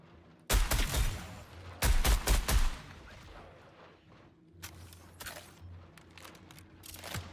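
Gunfire in the sci-fi shooter Marathon: two loud, dense bursts of rapid shots near the start, followed by quieter scattered shots and distant combat noise.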